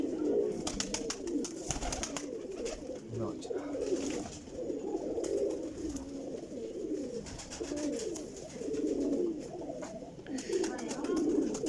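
Flying pigeons in a loft in Jhelum coo in low rumbling bursts throughout, with a voice talking over them and occasional higher chirps.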